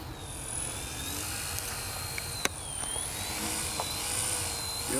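Eachine E110 spy drone in flight, its propellers giving a steady high-pitched whine with wavering tones that drift up and down, constant and fairly close throughout, with a brief sharp click midway.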